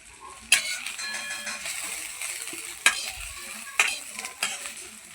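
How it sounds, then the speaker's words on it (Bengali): Small morola fish crisping in hot oil in a pan, a continuous sizzle punctuated by four sharp scraping clinks as a spatula stirs and turns the pieces. "এখানে দিয়ে দিলাম মোরলা মাছগুলোকে। আবারও একটু ভেজে নেব ভালো করে মুচমুচে করে।"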